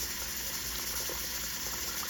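Water runs steadily into a pot being filled for canning quart jars of tomato juice, a constant broadband rush with no pauses and no voices.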